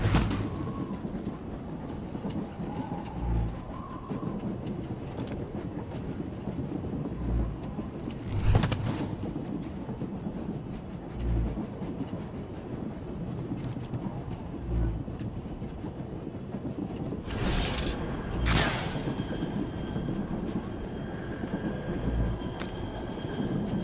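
A train rumbling along on Umbara in Star Wars: The Old Republic, a steady heavy roar with rhythmic clacks and a couple of sharp metallic bursts.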